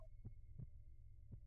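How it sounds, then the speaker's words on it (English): Slow, muffled heartbeat thuds at irregular spacing over a steady low hum during a Curse of Strahd tabletop game session, faint and with no talk. "Do you hear that heartbeat?"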